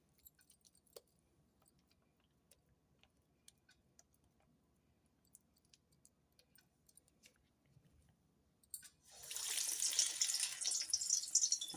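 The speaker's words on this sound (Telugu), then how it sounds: "ఇప్పుడు వడలు అయితే వేసుకుందాము." Vadas, plain and salted hotel-style, slide into heated oil on a home stove and erupt into a loud, dense sizzle that takes over the last few seconds, after a stretch of faint ticks and small kitchen sounds.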